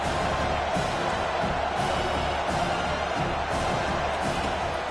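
A dense stadium crowd roars steadily at a college football game as the home side pins the opponent deep in its own end, a loud, unbroken wash of cheering and noise filling the whole stretch.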